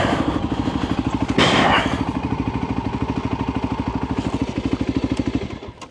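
A Voge 300 Rally motorcycle idles close by with a steady, pulsing single-cylinder thump, briefly interrupted by a louder thud or scrape partway through as it is parked up on hard-looking ground.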